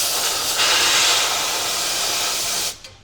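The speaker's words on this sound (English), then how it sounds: "next I'm going to blow a little air around the oil filter" Compressed air blasted around the oil filter of a 6.7 Powerstroke diesel engine, a loud, steady close hiss lasting nearly three seconds before cutting off abruptly.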